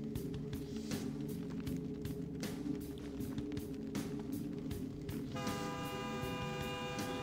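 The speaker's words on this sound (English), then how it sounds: "Honk." A vehicle horn honks in Vampire: The Masquerade – Bloodlines over dense game street ambience in Santa Monica. A sustained multi-tone blare enters late and sounds loud and close, with no talk.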